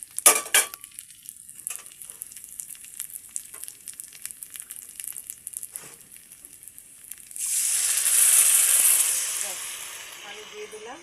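Water is poured into a pan of fried raisins, walnuts, cashews and sugar, bringing a loud rushing hiss that swells partway through after light clinks and sizzling, with no talk.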